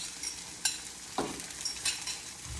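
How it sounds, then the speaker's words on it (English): Two whisked eggs poured into a hot pan to scramble, giving a steady soft sizzle broken by a few light scraping and tapping sounds, fairly quiet and with no voices. "So I'm just gonna put the 2 eggs in"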